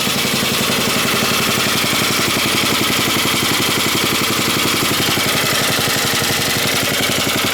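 Old Montgomery Ward snow blower engine running steadily, a loud close rapid putter with a slightly tappy valve rhythm throughout, no talk.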